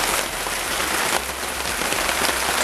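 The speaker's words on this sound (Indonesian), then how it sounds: "Jadi cuacanya kebetulan teman-teman hujan nih" Rain drums steadily on a tent roof while someone cooks eel inside over a stove in the wild, a dense, loud patter of drops with slight surges, no voices heard.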